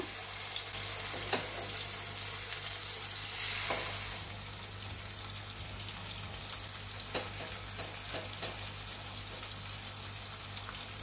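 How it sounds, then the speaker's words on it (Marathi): Spiced potato slices frying in oil over a low flame, a continuous close crackling sizzle with a few louder pops and splatters, steady throughout and with no talk. "आता एक एक करून आपण तळून घेऊया"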